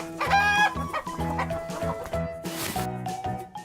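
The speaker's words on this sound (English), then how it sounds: "This is a hen." A domestic hen clucks loudly and close by, with a quick run of throaty, repeated clucks and a few drawn-out calls. No one talks over it.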